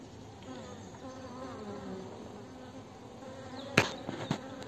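Steady, close buzzing of many honeybees around a hive in February, a continuous drone with a few louder knocks and thumps near the end.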